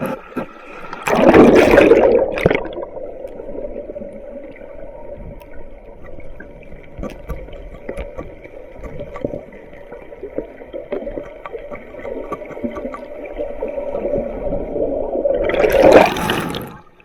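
Strong river current rushing steadily at a spearfishing spot in San Pablo City, Laguna, a loud continuous wash with louder splashy surges near the start and the end, no speech.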